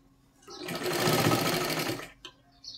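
Sewing machine stitching piping onto a princess-cut blouse, running in one steady burst of about a second and a half, close and loud, with brief small clicks after it stops.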